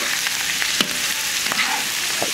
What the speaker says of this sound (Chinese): 这个呢，我们给它炒出油